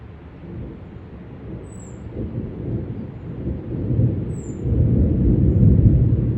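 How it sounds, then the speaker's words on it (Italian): Low thunder from an approaching summer thunderstorm over a mountain area rumbles steadily and swells louder toward the end, with faint high chirps above it and no talking. "sta arrivando un temporale di quelli super, c'è ben l'allerta"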